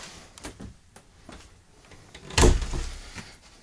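A large closet door in a 43-foot Wildwood DLX 4002Q two-bedroom travel trailer opens with a single short, fairly soft bump and slide about two-thirds through, surrounded by faint room noise and no talking.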